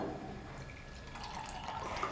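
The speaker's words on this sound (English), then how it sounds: "So in one glass I am adding normal water." Water is poured into a glass already holding oil, making a faint, steady trickling and filling sound close by with a few small splashes.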